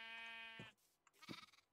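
Short game bleats from a sheep in modded Minecraft, one bleat and then a second more broken call, faint and alone with no talk.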